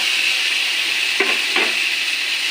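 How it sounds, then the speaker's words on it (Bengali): Vegetables, including pointed gourd and potato, frying with spice tempering in a pan give a loud, constant sizzle up close, with two brief scraping strokes of a stirring spoon. "ভালো করে মিশে নিই সবজিটা ফোড়নের সঙ্গে"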